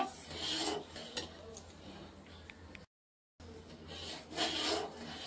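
Steady scraping and rubbing of a spoon stirring the bottom of a pan of thick, boiling homemade tomato ketchup, close and continuous with brief pauses and a cut of silence midway.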